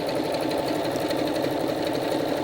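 A sewing machine runs steadily with a rapid, even stitching rhythm, working a triple straight stitch with a wing needle to sew a decorative trim along a fabric edge in contrasting machine-embroidery thread, close and continuous with no talk.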